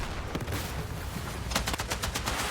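Rapid bursts of automatic machine gun fire in Battlefield 6 crackle in quick succession, growing denser toward the end over a steady background rumble.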